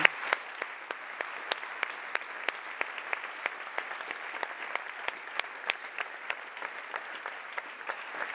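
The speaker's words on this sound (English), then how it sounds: "Please, big applause for all the finalists." A small audience at a venture award ceremony claps for the finalists, a thin, steady patter of applause with distinct individual claps standing out at an even, fairly quiet level.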